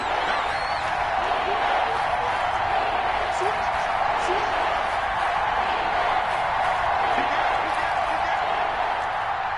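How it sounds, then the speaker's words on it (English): A stadium crowd in a PS4 football video game roars steadily, a dense sustained rumble that holds without breaks under game commentary. "the crowd getting into it as we come up on a big 3rd down"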